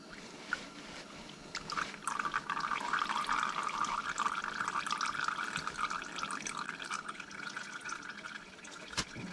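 Engine oil drains from a Sherco 300 SEF motorcycle, a faint, steady trickling pour with a few drips and light clicks around it.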